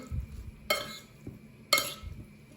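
Two sharp scraping clinks of a utensil against a bowl of salad being stirred, a second apart, with soft rustling of mixed food in between.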